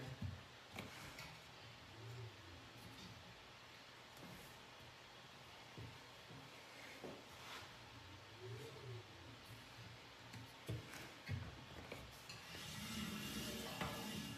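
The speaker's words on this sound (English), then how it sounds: "So I'm gonna keep spinning this until it rubs on my truing stand here." A bicycle wheel spins in a truing stand and rubs against it, making a faint, rhythmic scraping that repeats with each turn under a steady broadband background.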